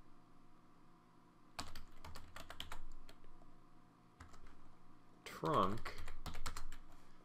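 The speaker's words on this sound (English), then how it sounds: "So we're going to type in" Bursts of computer keyboard typing as switch commands are entered for inter-VLAN router configuration, clicking in quick clusters with pauses between, close by, while someone talks intermittently over the keys.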